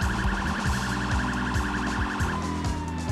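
Police vehicle siren in the Sleeping Dogs video game: a loud, close electronic wail cycling rapidly and steadily up and down, with a rhythmic low engine pulse underneath throughout.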